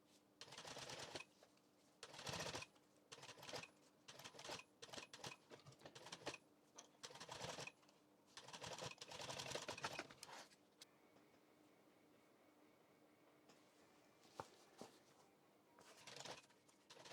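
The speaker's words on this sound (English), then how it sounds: "I'm on to sewing all of the flutes." A sewing machine stitches leather flutes for a custom pet bed upholstery, running in bursts of rapid, close, rattling mechanical stitching separated by short pauses, then going quieter toward the end.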